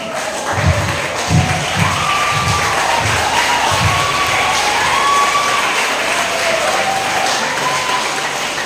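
Audience applause and cheering at a church gathering in Nasugbu, Batangas, a loud sustained wash of clapping with some shouts and low thuds, filling the whole stretch without a break.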